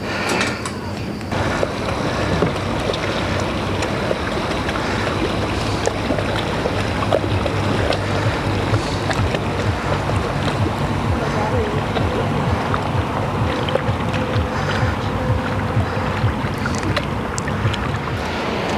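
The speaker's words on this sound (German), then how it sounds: "Das ist unsere Yacht." A motor yacht cruises through a lagoon near Venice, Italy, with a constant engine drone mixed with rushing water and wind noise, loud and continuous.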